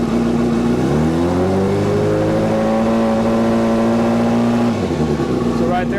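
A 2005 Yamaha R6 motorcycle engine revs up from idle during a charging system check. The pitch climbs and holds for about four seconds, then drops back to a steady idle. The sound is close and loud throughout.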